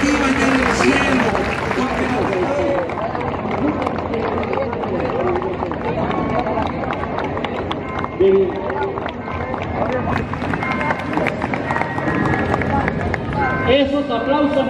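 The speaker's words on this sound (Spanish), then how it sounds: "Esos aplausos no pueden parar, esos aplausos se están aquí, en la alegría del pueblo de Dios" A large crowd at the Virgin of Táriba celebration claps steadily and loudly throughout, a dense sustained wash of applause mixed with cheering and crowd noise, with a brief drop near the end.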